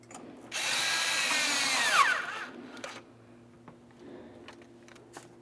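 Power tool driving an 8 millimeter headed clamp on the throttle body of a 1994-2002 Dodge Ram 2500, with a loud steady whir for about one and a half seconds, then a few faint clicks and handling noises.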